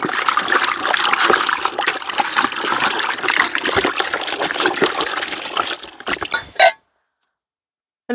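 Water pours and trickles with clinking glass and splashes while coffee is being made, a steady close liquid stream for about six seconds that breaks into a few clinks before stopping abruptly.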